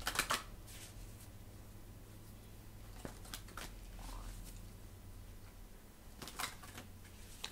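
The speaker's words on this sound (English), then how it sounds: "Let's get the last two cards out and see what they say." Tarot cards are shuffled and drawn at a quiet table, with soft papery riffles and light taps scattered through the stretch and short brisk bursts near the start and end.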